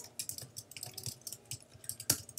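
Rapid typing on a computer keyboard, close and fairly quiet, with steady light key clicks and one sharper tap near the end.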